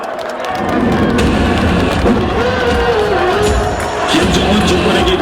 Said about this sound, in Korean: 당원 여러분 큰 박수로 맞아주시기 바랍니다.